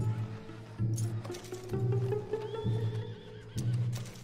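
A horse whinnies in the video game Red Dead Redemption 2 amid a repeating rhythmic thudding, like hooves or a steady beat, with no talking.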